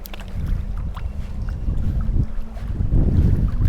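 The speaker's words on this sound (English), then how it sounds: "Wind really strong coming from this side." Strong wind buffets the microphone beside a tidal saltwater lake, a loud continuous roar that rises and falls, with low rumbling gusts and no voices.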